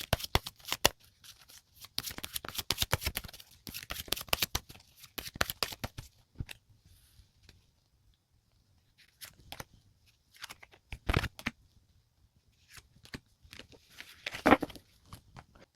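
Tarot cards are shuffled and drawn by hand, producing bursts of quick riffling and flicking that come in clusters with quiet gaps between, close and crisp, with no voices.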